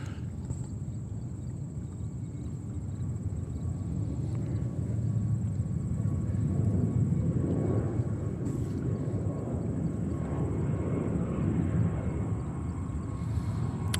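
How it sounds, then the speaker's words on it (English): A KLM Boeing 787-10 Dreamliner arriving from Amsterdam lands at JFK airport, a steady low jet rumble that swells gradually toward the middle and stays broad and distant-sounding throughout. "I see another heavy inbound. That's KLM 787-10 Dreamliner."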